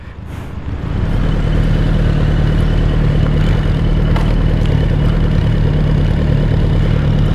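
A Panther motorcycle engine idling in Lahore, a loud, steady low chugging rumble that starts after a brief quieter moment and holds evenly throughout.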